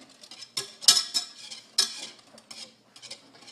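Chocolate pudding stirred in a pot gives close, irregular clinks and scrapes of a utensil against the metal, in short bursts with brief quiet gaps.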